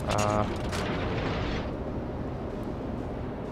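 Naval gun salvo from the tier 8 Atago cruiser in World of Warships, a loud booming blast at the start that rolls into a sustained low rumble fading over several seconds.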